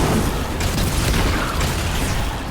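Grenade explosion in the Destiny 2 video game: a dense, loud, rumbling boom filling the short stretch with continuous broadband noise, no voices.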